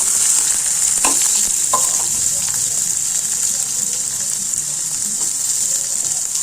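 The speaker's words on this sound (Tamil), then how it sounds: "வடகம் நல்லா பொரிஞ்சோடனே நம்ம இந்த வெங்காயம் அடித்து வச்ச பூண்டு, தக்காளி எல்லாத்தையும் ஒன்றா போட்டுடலாம்." Vadagam, onion, crushed garlic and tomato sizzle steadily in hot oil for fish curry, a continuous close frying hiss with a few brief stirring clatters and no talk.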